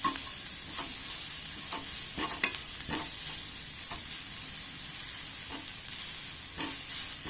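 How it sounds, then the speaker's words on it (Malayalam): Spice powders frying on a low flame in a pan for a paneer mayo roll, with a soft continuous sizzle broken by repeated scraping strokes of a spoon stirring. "നന്നായിട്ട് ഇളക്കി കൊടുത്തോണ്ടേയിരിക്കാം."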